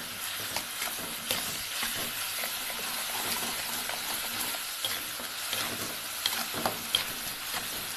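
Aloo methi bhaji of potato and fenugreek sizzles in a pan while being stirred, with steady close frying hiss and repeated scraping, clacking strokes of the spoon throughout.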